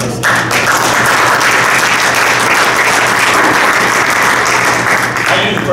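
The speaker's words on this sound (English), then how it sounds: "I think there's a round of applause for the opportunity" Steady applause from a sizable crowd at a school board meeting fills the whole stretch, dense and continuous without pause.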